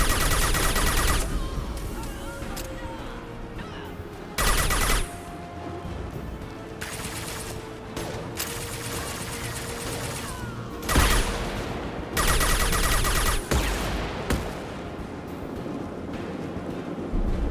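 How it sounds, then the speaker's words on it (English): High-impact gunshots in the Mass Effect 2 video game ring out as repeated loud blasts and bursts of fire, separated by short lulls, over a constant noisy battle ambience. "Firing a high-impact shot."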